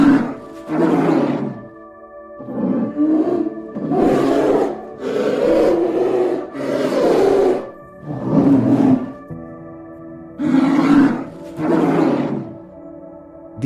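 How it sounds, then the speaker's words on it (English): A polar bear gives a series of deep, rumbling roars, about eight drawn-out bursts separated by short pauses, loud and close with no other sounds. "Listen to the roar of the most dangerous polar bear."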